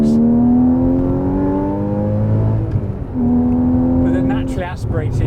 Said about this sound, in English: the exhaust gets louder, the acceleration picks up, the car gets up and down the road, as Phil is demonstrating